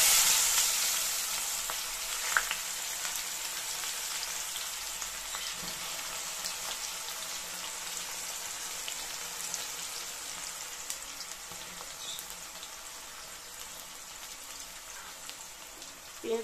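Onions sizzle and hiss steadily in hot oil for Bengali chitol fish kalia, a loud fry at first that settles into an even crackle, with a few stirring clatters.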